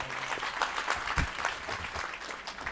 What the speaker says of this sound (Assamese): ভাল লাগিছে হাত চাপৰি?